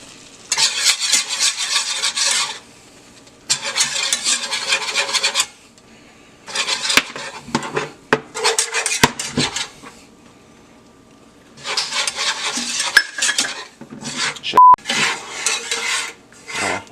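Whisk scraping and stirring milk and flour in a metal pan, loud rhythmic bursts of whisking separated by short pauses, with light clinks of utensils against the pan.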